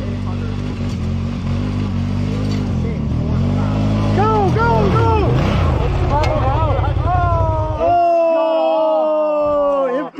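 Engine of a big 800 all-wheel-drive ATV quad in a dirt bike and ATV game, a loud close drone that revs up and down in rising sweeps before settling into a steady higher whine, with voices talking over it.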